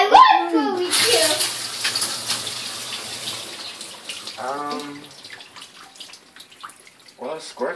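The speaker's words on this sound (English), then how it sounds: "Well, it squirts water all over the place." A broken dishwasher sprays water everywhere, a broad hissing splash that runs strongly for several seconds close by, while an adult and someone talk over it.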